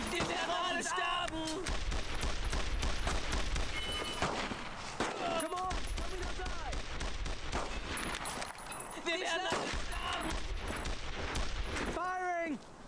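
Gunfire in the World War II shooter Brothers in Arms: Road to Hill 30 rattles in dense bursts of rifle and machine-gun shots, near and loud, with shouted voices mixed in among the volleys.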